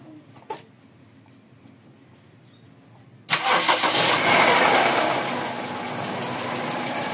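A car engine, a 4A-FE in a Toyota Corolla GLi, cranks and catches after a quiet pause with one brief knock. It then runs loudly and steadily, with a ticking rattle from loose valve clearance.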